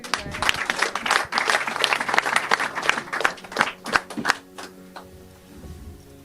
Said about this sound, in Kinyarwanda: Ndagira ngo mwongere mu bampera amashyi.